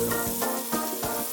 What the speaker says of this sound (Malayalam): ഇതിലേക്ക് നമ്മൾക്ക് പനീർ ഇട്ട് ഷാലോ ഫ്രൈ ആക്കി എടുക്കാം